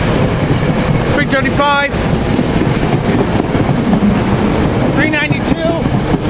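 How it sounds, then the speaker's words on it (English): A five-car train rolls past close by in a loud, steady rumble with brief squeals, while a man calls out numbers over it. "5-car train, more to come."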